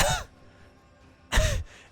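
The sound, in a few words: narrator imitating a character coughing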